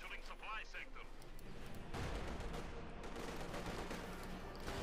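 Mortar and artillery fire in Company of Heroes 2 rumble as dense, continuous booms and crackling gunfire, a heavy battle wash that swells louder halfway through, with a voice talking over it.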